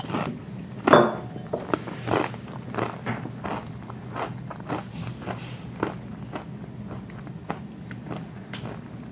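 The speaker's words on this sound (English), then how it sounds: "The crunch is there. It's not quite as crunchy as a corn chip, but it hits super close." Close, repeated crunching as someone bites and chews Siete grain-free tortilla chips, irregular crisp crackles with small rustles, no speech.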